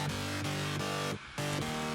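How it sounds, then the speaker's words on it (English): A progressive house bass synth built from a Silent One preset plays a steady sustained tone that cuts out briefly near the middle and returns, loud and alone with no voice. "which is originally a Silent One preset from MusicCore,"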